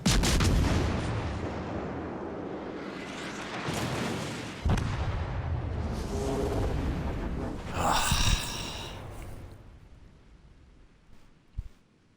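Naval gunfire in the video game World of Warships Legends, with heavy booming salvos and rumbling blasts rolling continuously for several seconds, then fading out with a few sharp isolated shots near the end.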